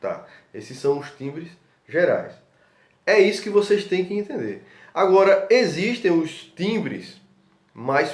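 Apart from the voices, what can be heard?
None of the usual background noises is heard.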